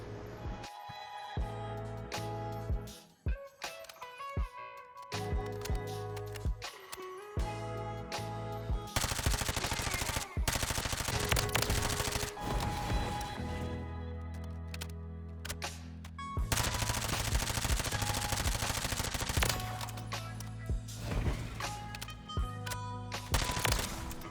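Rapid bursts of MP5 submachine gun fire from Modern Warfare 3 rattle loudly and repeatedly, with short pauses between strings of shots and continuous game action behind them.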